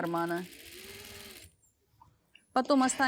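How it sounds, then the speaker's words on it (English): Sewing machine stitching along the basted seam of a pocket on a striped summer midi dress, a steady close whirr for about a second and a half, with a voice speaking briefly before and after. "So I sew exactly in the basted seam, extremely precise to the second pocket."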